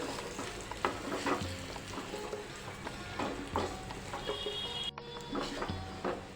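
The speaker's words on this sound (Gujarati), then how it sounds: "હવે આપણે આ બટેકા મસોઈને રાખ્યા છે તે એડ કરી દઈશું મિક્સ કરી લઈશું" Mashed boiled potato being stirred into a filling in a pan for bread pakoda, giving steady scraping and soft sizzling at close range, with occasional spoon knocks and no talking.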